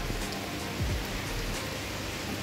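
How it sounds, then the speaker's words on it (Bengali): Heavy monsoon rain falls outside a house and is heard from indoors as a steady, dense, even hiss with no pauses. "আমি ঘরের ভিতর থেকেই একটু বৃষ্টির শ্যুট করছি।"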